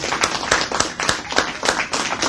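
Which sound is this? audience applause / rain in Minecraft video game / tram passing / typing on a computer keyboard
audience applause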